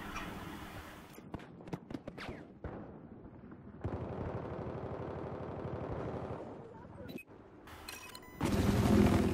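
AK rifle gunfire in Battlefield 4 gameplay, with bursts of rapid shots and explosive booms, loud and close, mixed with game noise and some talking.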